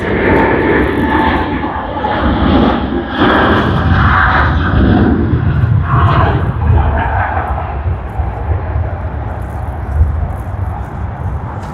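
Airliner VH-ZND taking off at Sydney Airport, very loud and close, with a crackling, thundering engine roar that pulses and rumbles before gradually fading, and no voices.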